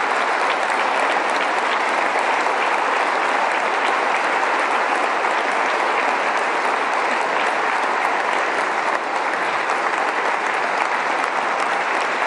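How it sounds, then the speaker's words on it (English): Sustained, loud applause from a large audience at the 2024 West Virginia State of the State address, a thick, unbroken wash of clapping that holds steady for over ten seconds. "Please give them a monstrous round of applause."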